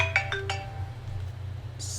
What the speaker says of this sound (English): Sorry, my phone rang.